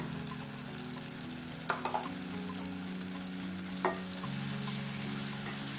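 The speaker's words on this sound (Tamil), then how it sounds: "ஒரு நிமிஷத்துக்கு நல்லா வதக்குங்க." Tomatoes sautéing with chilli, coriander and turmeric powder for a drumstick masala curry, a soft steady sizzle in the pan with a few brief clinks of stirring, quiet and without speech.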